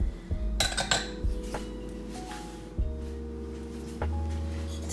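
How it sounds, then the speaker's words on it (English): Metal utensil clanks and scrapes against a bowl while flour, sugar, baking powder and salt are stirred together for no-yeast cinnamon buns, with a few sharp clinks, dull knocks and short scraping passes, close by and without talk. "So now we're gonna mix all the dry ingredients."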